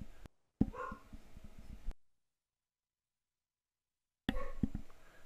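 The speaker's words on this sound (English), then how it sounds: "And the dog's barking." Dogs bark and yip somewhere outside during a podcast recording, with two short bursts of rough barking separated by a long silent gap.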